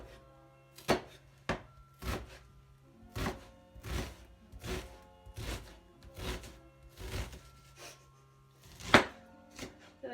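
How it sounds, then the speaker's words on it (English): A knife chopping an onion at home: about a dozen crisp, close wooden thunks on a cutting board in an uneven rhythm, with quiet pauses between cuts. "And tidy way of cutting an onion."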